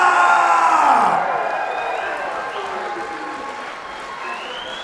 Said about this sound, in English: And a round of applause for his very game opponent in Matt Fuhrer.